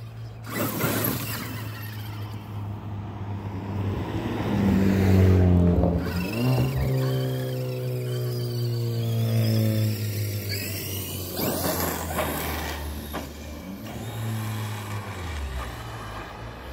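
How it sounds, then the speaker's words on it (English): A Traxxas X-Maxx RC monster truck runs on storage batteries, its electric motor whining up and down in pitch with gear and drivetrain noise, loud and close with no talk. "Oh, I know what it is. It's because the truck's slow."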